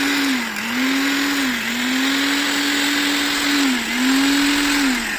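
A repaired mixer grinder (mixie) runs with a steady, loud motor whine, its pitch dipping slightly in a few brief periodic wobbles while the hum stays continuous and close.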